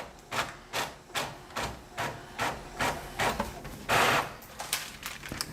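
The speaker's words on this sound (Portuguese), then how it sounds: "Seleciono a impressora, imprimir. Ela é bem rápida a impressora." A fast printer printing a tattoo decal, running in a regular rhythm of about a dozen short mechanical strokes, close and moderately loud, with no talking.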